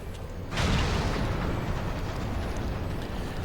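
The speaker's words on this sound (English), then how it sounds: "All cannons, return fire." Cannon fire and a heavy explosion aboard an airship in a video game, a sudden loud blast followed by a long rumbling, roaring wash of noise that slowly eases off.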